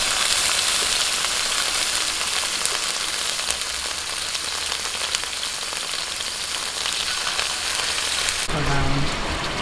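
Marinated pork ribs fry in a pan of hot oil with a loud, steady, dense crackling sizzle that holds throughout, softening slightly at the very end.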